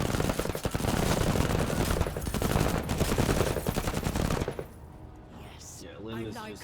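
Rapid automatic gunfire from shooting enemies in the video game MENACE, a dense, loud, continuous volley for about four seconds that cuts off abruptly and leaves a quieter stretch with a brief voice near the end.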